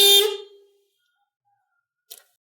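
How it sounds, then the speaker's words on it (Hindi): A car horn wired to a direct positive current during an EFI auto-electrical test gives one short, loud blast that cuts off into silence, followed later by a faint click. "जैसे ही मैं यहाँ डायरेक्ट पॉजिटिव करंट दूंगा तो हॉर्न ऑन हो जाएगा।"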